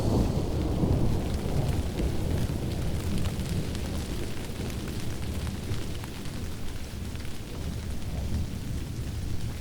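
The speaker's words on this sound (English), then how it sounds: "soon it begins to rain, washing away all evidence" Steady heavy rain pours down with deep, rolling thunder rumbling beneath it, a dense, continuous storm roar lasting throughout.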